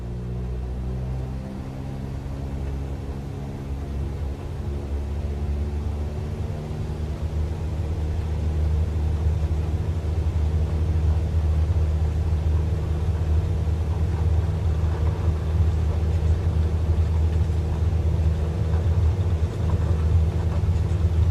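An aircraft engine in a flight simulator drones loud and steady during takeoff from runway 27, a low harmonic hum that rises slightly in intensity with no talk over it.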